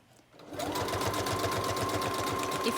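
A sewing machine starts up after a quiet moment and runs steadily, chain piecing paper strips in a fast, even rattle of stitches close by.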